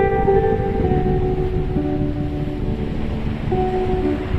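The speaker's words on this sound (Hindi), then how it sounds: "यहाँ पे सामने समंदर, आपको समंदर की आवाज़ें भी आ रही होगी।" Sea waves wash against the rocky shore at Harihareshwar with a continuous, loud rushing roar, joined by faint steady tonal hums in the background and no talking.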